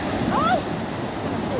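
Ocean waves wash and break on a cold, freezing beach, a steady broadband surf rush with faint background voices and a brief whistle-like tone.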